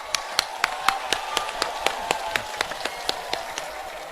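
Crowd at an outdoor Lok Sabha election rally in Buxar, Bihar, clapping in a steady, quick rhythm of sharp claps that continue without pause.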